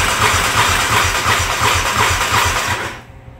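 A quad ATV engine cranks loudly with the throttle held wide open, a steady rhythmic churning pulse right up close for about three seconds before it cuts off abruptly.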